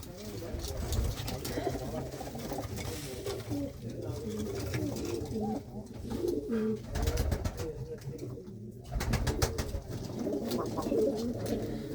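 Male pigeons in a loft coo in a steady throaty murmur, many birds overlapping close by, while people talk over them throughout.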